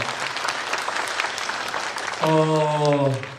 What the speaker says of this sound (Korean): 박수 한번 주시기 바랍니다